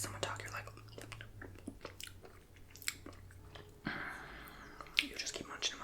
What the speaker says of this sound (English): you just keep munching and munching and munching.